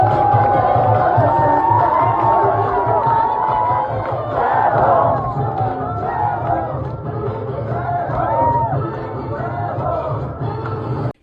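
A dense crowd gathered at a protest, with many voices shouting and chattering at once, loud and close, forming a continuous roar of overlapping calls throughout.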